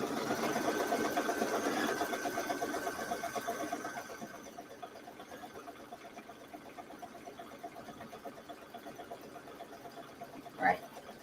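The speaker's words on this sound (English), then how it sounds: "it's going to stitch the placement line again for the Y" Embroidery machine stitching a placement line for a Jolly wall hanging: a steady rapid mechanical whir and needle chatter, louder at first then settling to a constant hum, with one brief knock near the end.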